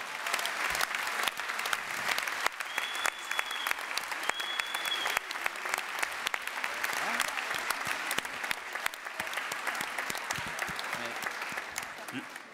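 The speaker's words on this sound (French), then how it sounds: "Je vous propose d'applaudir le personnel de la Fédé" Delegates at a federation congress applaud the staff, a long, steady roar of many hands clapping in a large hall, with occasional voices rising faintly through it.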